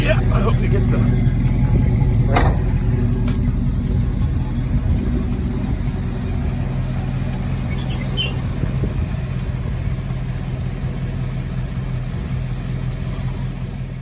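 A 1974 Plymouth Barracuda AAR clone with its engine running and rumbling close by, a deep steady idle with a slight rev near the start, and a brief squeak partway through.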